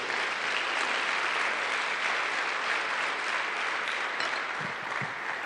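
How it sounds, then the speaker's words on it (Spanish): Congregation clapping in a Spanish-speaking church service in Quiché, a sustained even roar of many hands, somewhat distant and unbroken, with a couple of faint low thumps near the end. "dele esa ofrenda de palmas al Señor"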